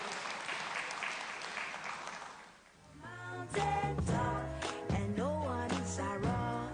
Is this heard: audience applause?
yes